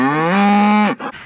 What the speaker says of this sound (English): the cow that is front and center waiting for me